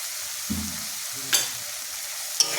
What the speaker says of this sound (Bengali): মশলাটা ভালো কষলে পারে তোমার তরকারি টেস্ট ভালো হবে